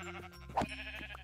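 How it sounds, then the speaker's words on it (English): Sheep bleating in the video game Minecraft, a single loud, nasal bleat standing out from a steady game background with faint music, fairly close and alone. "So many sheep. So many sheep."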